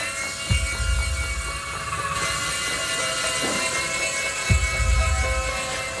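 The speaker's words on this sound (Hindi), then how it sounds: "ये हेलीकॉप्टर गार्डन में चलाने के लिए है, घर पर नहीं।" Toy helicopter flying indoors inside a home, its rotor giving a steady high buzzing whine throughout, close and loud, with a couple of low thumps at moments.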